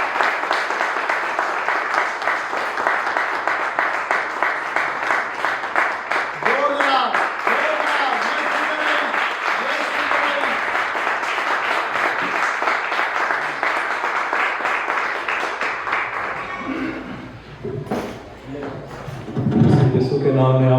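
A church congregation at a Sunday Pentecostal prayer service claps in sustained, dense applause lasting most of the stretch, loud and full, then tapering into scattered claps and voices near the end.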